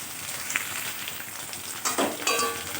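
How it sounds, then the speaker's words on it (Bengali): Potato pieces fry with garlic in a pan, a soft, steady sizzle broken by a few sharper spatters and scraping stirs toward the end. "আলুটা একটু হালকা করে ভেজে নিয়েছি রসুনের সাথে।"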